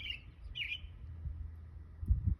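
Outdoor songbirds give two short, bright chirps near the start, then go quiet over a low background rumble with a couple of soft thumps near the end.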